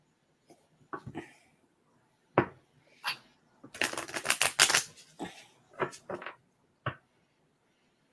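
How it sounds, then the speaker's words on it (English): Cards being flipped and laid down one after another at close range, a run of soft slaps and shuffles with a denser flurry in the middle, in a quiet room with no talking. "So I'm gonna flip the past life cards."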